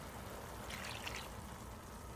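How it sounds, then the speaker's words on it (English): Water being poured into a pan of fried onions and cilantro, a steady soft splashing stream that holds for a couple of seconds at low level. "Add water."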